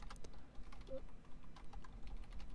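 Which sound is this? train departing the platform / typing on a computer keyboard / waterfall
typing on a computer keyboard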